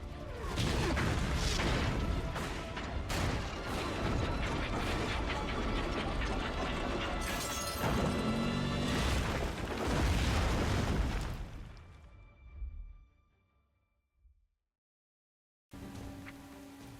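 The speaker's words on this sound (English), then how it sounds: "What a cutscene. It was just a ship exploding?" A ship explodes in a World of Warcraft: Mists of Pandaria cutscene with a long, loud roar of blasts and crashing debris that fades into silence before sound briefly returns.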